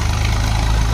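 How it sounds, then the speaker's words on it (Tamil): A Swaraj 744 FE tractor engine runs with a steady, heavy low rumble, close and loud, holding an even idling throb for the whole moment. "சூராஜ் டிராக்டர் வருதுங்க"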